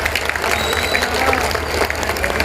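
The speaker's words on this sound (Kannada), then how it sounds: "ಅವ್ರಿಗೊಂದು ಜೋರು ಚಪ್ಪಾಳೆ ಹೊಡೀರಿ ಮಕ್ಕಳಿಗೆ." An audience at a school annual celebration claps for schoolchildren, a dense and continuous burst of applause from a crowd with a voice mixed in.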